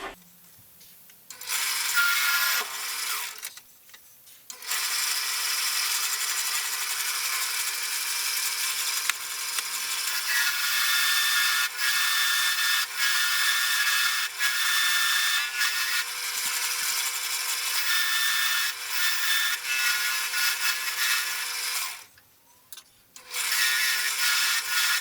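Woodturning lathe trimming a wooden tool handle, a steady bright scraping hiss from the cut that runs almost unbroken, with two short pauses where the tool lifts away.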